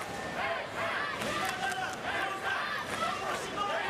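A crowd cheers at a Paralympic judo final in Paris, a continuous roar of voices and shouts filling the arena, steady and fairly loud, with commentary running over it.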